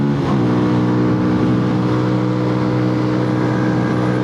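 A Malaguti Spectre 125 GP motorcycle engine runs loud and close at high revs, a steady buzzing drone with a brief rise at the start.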